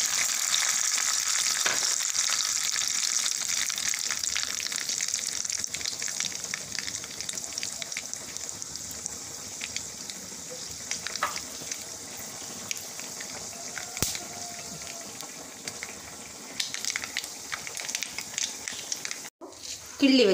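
Fenugreek seeds sizzle in hot oil, following spluttered mustard seeds, while tempering a fish curry: a dense, steady hiss, close and fairly loud, with a sharp knock near the end.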